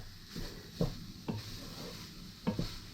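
Ground meat mixed with herbs, garlic and onion is stirred and folded in a hot pan: a faint, steady sizzle broken by a handful of soft scraping strokes of a utensil, close by and without talk.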